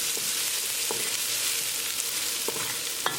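Green chili and onions stir-fry in a hot pan for a ground beef dish, a loud, dense, continuous sizzle with a few soft clicks from mixing.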